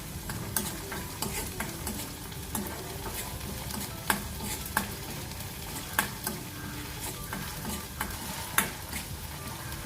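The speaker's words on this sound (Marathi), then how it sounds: "कांदा टोमॅटो परतून झाले." Onion and tomato sautéing in a pan for butter beans masala, a constant close sizzle punctuated by regular sharp scrapes and taps of a spatula stirring through it, with no talking.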